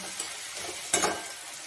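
Spices with mustard, turmeric and coriander powder frying in a pan for a snail curry, a steady close sizzle with a sharp burst of hiss and stirring near the middle.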